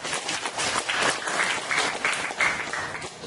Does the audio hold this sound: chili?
no